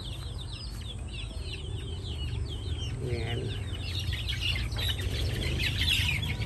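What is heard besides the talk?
chickens being fed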